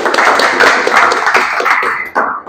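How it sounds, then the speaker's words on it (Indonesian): An audience claps at a school presentation, a short burst of scattered applause lasting about two seconds and fading out at the end. "Tepuk tangan dulu"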